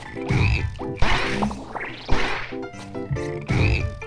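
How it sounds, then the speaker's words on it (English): Several loud croaks from little frogs in the video game Battleblock Theater ring out in quick succession, mixed with sharp whacks and crashes from the game, with no voices. "What are these little frogs doing everywhere?"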